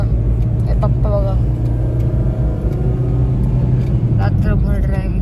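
A car being driven through the night by the father, its loud, steady engine and road rumble filling the cabin throughout, with faint voices underneath.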